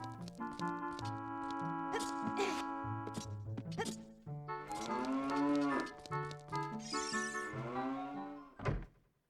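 Cows moo repeatedly in Ocarina of Time, long low bellowing calls layered over game music and thunks, loud and close, ending with a short sharp sound.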